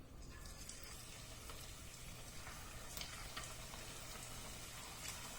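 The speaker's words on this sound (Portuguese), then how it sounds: "O óleo já está quente, eu vou adicionar aqui agora o quibe." Gluten-free kibbeh fry in hot oil, a faint continuous sizzle with small crackling pops throughout, no voices.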